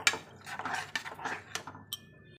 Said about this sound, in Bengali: লঙ্কার গুঁড়োটা দিয়েছি এবার ভালো করে একসঙ্গে মিশিয়ে নিয়ে কষিয়ে নেবো